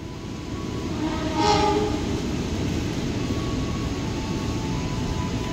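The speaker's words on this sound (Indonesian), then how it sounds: "Jalur 4 kereta api Manahan dari Solo tujuan Jakarta Gambir." The Manahan passenger train from Solo to Jakarta Gambir stands on track 4 at a busy Jakarta station. A steady, moderately loud rail rumble carries on throughout, with a short horn-like tone rising early on.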